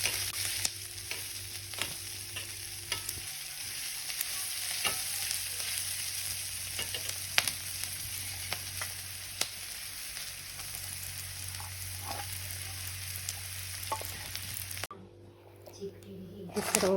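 Onion and garlic sautéing in a pan for a mutton masala paste, a steady frying sizzle with stirring scrapes running throughout, briefly dropping near the end, while a person talks over it.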